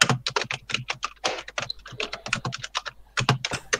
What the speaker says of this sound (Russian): Это у меня еще не старая клавиатура